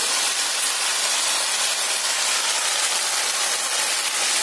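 Slit green chilies frying with potatoes in a home kitchen give off a loud, steady sizzling hiss that runs unbroken throughout, with no talk.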